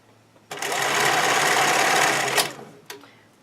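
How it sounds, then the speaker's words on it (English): A sewing machine zigzag-stitches elastic onto stretchy swimwear fabric, running steadily for about two seconds, loud and close, then stops, followed by a faint click. "pull my elastic, and sew zigzag"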